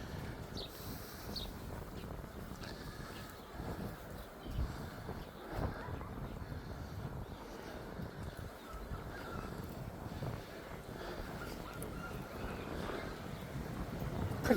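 Wind on a breezy, hot day on a grassy hilltop during a dog walk, a steady broadband rush buffeting the microphone continuously and at moderate level throughout.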